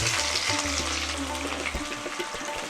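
Chopped onions sizzle in hot oil with whole spices for a Bengali fish-roe kofta curry, a steady close frying hiss with a low hum underneath.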